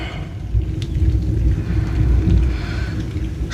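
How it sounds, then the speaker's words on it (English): Stormy weather outdoors brings a steady low rumble of wind and weather noise with no clear thunderclaps, continuous and close to the microphone throughout. "Stormy weather"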